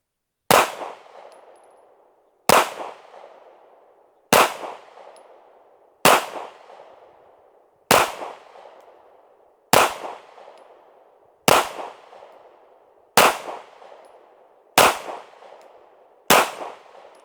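Ten sharp pistol shots from a PX-9 Carry firing S&B 124 grain rounds at steel targets on a range, evenly spaced about two seconds apart, each loud crack followed by a ringing decay.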